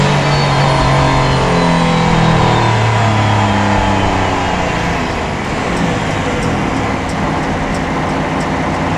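A Mercedes-AMG ONE hypercar's F1-derived engine roars steadily at close range on a track, its pitch rising and falling through revs with a deep, throaty rumble.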